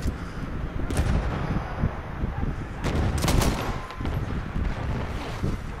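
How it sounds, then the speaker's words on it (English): Battlefield 1 suppressive gunfire rattles in repeated bursts over a constant rushing wind-like roar, with a dense cluster of shots in the middle. "Laying down some suppressive fire for you."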